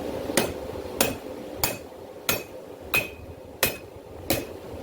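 A hammer strikes hot steel on an anvil while an herb chopper is forged, seven hard ringing blows evenly spaced about two-thirds of a second apart, close and loud, with no talking.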